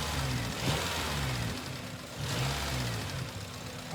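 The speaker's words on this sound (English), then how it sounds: "I'm gonna snap the throttle a few times." A Honda car engine has its throttle snapped, producing a steady mid-pitched engine drone with two swells in revs, one early and one around the middle, heard close and without speech.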